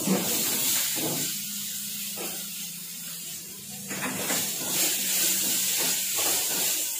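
Onions and green chillies frying in hot oil in a pan, a close, steady sizzle and hiss with stirring scrapes, and faint talk in the background.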